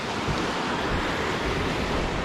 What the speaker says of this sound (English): passing this creek.